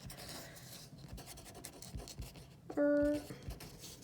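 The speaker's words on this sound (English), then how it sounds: "I'm going to write counter" Writing on a classroom board: a soft scratchy stroke texture runs faintly under room noise, broken briefly by a short steady electronic tone near the end.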